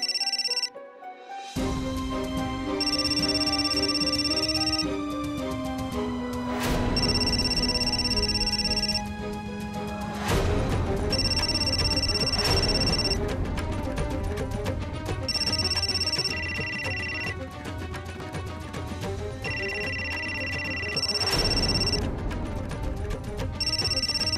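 A telephone rings repeatedly in regular bursts over a steady background of music, the electronic ring recurring about every four seconds.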